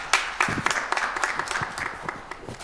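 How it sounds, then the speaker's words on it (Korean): Seminar attendees at a Korea–Russia relations session clap to welcome a professor, a loose patter of individual claps with uneven spacing, moderately loud in a hall. "다 같이 힘찬 박수로 맞이해 주시기 바랍니다."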